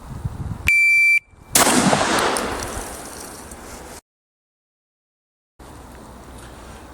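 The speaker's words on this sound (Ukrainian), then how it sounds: "гладкоствольна мисливська помпова рушниця" A single loud blast from a pump-action smoothbore hunting shotgun following a brief electronic beep, its noisy boom decaying over a couple of seconds, then silence and a quiet room.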